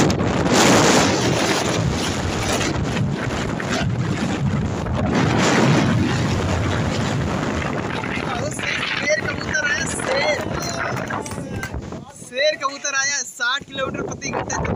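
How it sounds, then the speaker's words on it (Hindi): Roaring storm wind gusting at about 120 km/h buffets the microphone, with loud, steady broadband rushing for the first half before voices talk over a weaker, gusty remainder. "लाइट से ऊपर चल रही है भैया 120 की स्पीड में आंधी आई है।"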